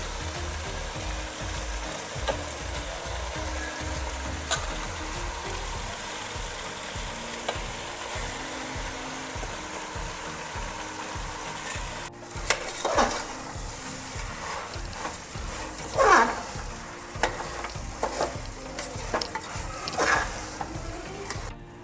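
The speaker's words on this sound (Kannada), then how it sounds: "ಅಕ್ಕಿನ ತೊಳೆದಿಟ್ಕೊಂಡಿದ್ದೆ, ಈಗ ಅಕ್ಕಿ ಹಾಕ್ತಾ ಇದ್ದೀನಿ." Washed rice tipped into a hot pot and stirred, a constant close sizzle for the first half, then louder scraping and stirring strokes with clattering bursts over the remaining seconds.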